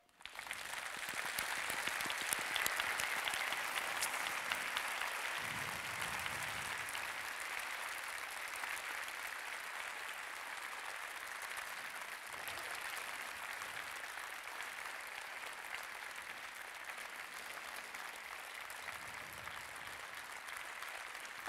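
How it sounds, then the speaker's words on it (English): An audience applauds Edward Snowden at a live Amnesty International event, giving steady, sustained clapping from a large crowd that holds at an even level throughout. "I let them applaud you"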